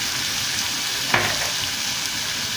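Tripe sizzles and fries steadily in a hot pan with black pepper, cumin, dried coriander and paprika, a continuous close crackle broken by one brief sharper burst of stirring partway through.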